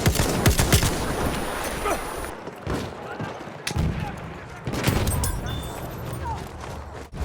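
General Liu rifle fire in Battlefield 1 cracks out in repeated sharp shots, with several bursts of close, loud gunfire and brief gaps between them, accompanied by battlefield noise.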